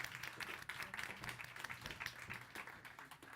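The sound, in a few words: audience applause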